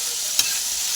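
Sliced bitter gourd sizzles steadily on a hot tawa while being stirred, a continuous close hiss of frying with one brief scrape of the spatula partway through.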